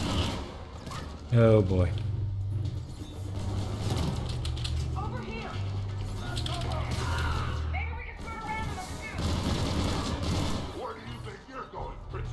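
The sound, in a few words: weapon gunfire with heavy recoil in Mass Effect 3 video game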